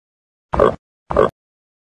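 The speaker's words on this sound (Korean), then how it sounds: "돼지" Two short, gruff pig grunts, evenly spaced and fairly close, with silence around them.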